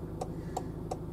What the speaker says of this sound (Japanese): アラームじゃない、ウインカー音、